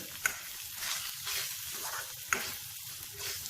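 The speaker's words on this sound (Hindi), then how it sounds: "इसको अच्छी तरीके से हम रॉ स्मेल निकलने तक फ्राई करेंगे" Spice masala for a shahi palak spinach dish sizzles quietly and steadily in a pan, with a couple of sharp clicks from stirring.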